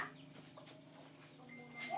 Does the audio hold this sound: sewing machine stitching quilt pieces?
no